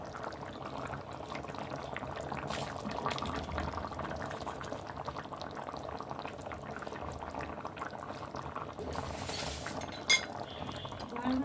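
A pot of duck egg and coconut milk curry with pumpkin bori simmers and bubbles steadily while it is stirred, with a soft liquid churn throughout and a single clink of the utensil near the end. No one speaks.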